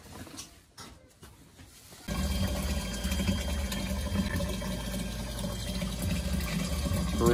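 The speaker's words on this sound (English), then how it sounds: "Brewing up a fresh batch of water here." Water pours into a tank through a carbon and micro filter with UV light, a steady rushing flow that starts abruptly after two seconds of quieter sound and continues loud and unbroken.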